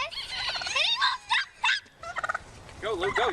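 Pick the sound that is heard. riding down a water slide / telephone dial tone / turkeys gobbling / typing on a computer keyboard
turkeys gobbling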